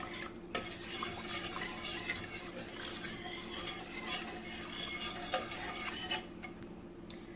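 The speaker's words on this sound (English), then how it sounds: "So you're going to keep whisking it until everything becomes nice and creamy." White sauce is whisked in a pan, a continuous soft scraping and clinking of a whisk against metal with a gentle simmering sizzle beneath, close and steady with no voices.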